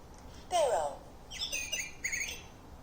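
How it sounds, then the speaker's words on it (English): A sparrow sings from a button sound book: a few bright chirps and short warbling phrases, played electronically over low background hiss. "The sparrow likes to sing."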